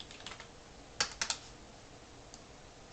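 Computer keyboard typing on a desk: a few scattered soft keystrokes, then a quick cluster of three sharp clicks, followed by a lone faint tap and one more at the end, close and alone with no talking.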